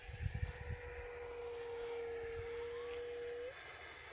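A foam RC model airplane flies and comes in to land, a steady moderate motor drone that holds level before the pitch shifts near the end, with some brief wind buffeting at the start.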